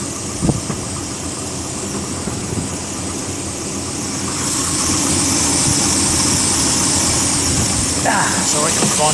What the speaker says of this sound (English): I'll open the bonnet and have a listen to the engine